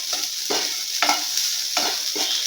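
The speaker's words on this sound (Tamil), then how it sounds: "இந்த தேங்காயை நல்லா சிவந்து வர வதக்கி எடுத்துடலாம்." Grated coconut dry-roasts in a pan with no oil or ghee, stirred in repeated scraping strokes about every half second over a soft, steady sizzle, close and alone.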